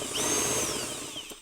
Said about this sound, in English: I didn't drill hard enough.